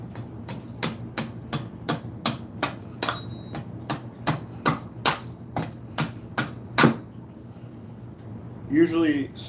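A hatchet thins and shapes a piece of wood during carving, striking in a steady series of sharp, close chops roughly twice a second, with a low hum beneath and a brief voice near the end.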